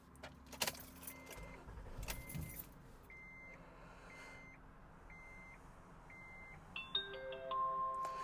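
A Honda car with 162,434 miles cranks and starts, with keys jangling, followed by a run of evenly spaced electronic chime beeps from inside the car over a low, steady engine hum.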